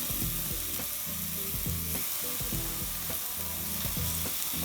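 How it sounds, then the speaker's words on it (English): Steady frying sizzle of tomatoes in a hot skillet, a dense hiss running throughout, with a few faint clinks and stirring bumps underneath. "Do you hear that sizzle?"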